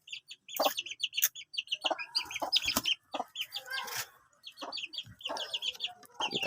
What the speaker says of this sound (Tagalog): Ito yung isa, yung white kelso na hen.